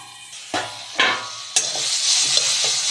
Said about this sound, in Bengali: একটু নেড়ে চেড়ে এবার আমি ঢাকা দিয়ে দিচ্ছি।